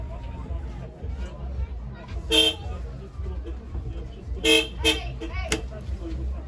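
Several short bus horn toots, one near the start and a cluster of blasts later, over engine rumble and background chatter at a bus depot open day in Katowice.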